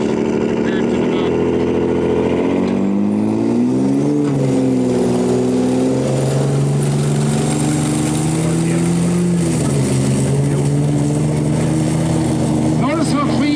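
Diesel truck engine at a truck pull at the Vermilion Ag Fair, a loud sustained roar with rising and falling pitch as it strains, under continuous crowd noise and talk.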